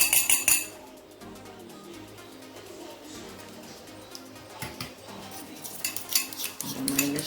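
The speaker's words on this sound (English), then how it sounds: "And then I mix it to get a smooth texture." A metal spoon scraping and clinking in a bowl while mixing mashed egg yolk with ketchup for deviled egg filling, irregular taps and scrapes, close and fairly quiet, with a faint voice briefly in the background.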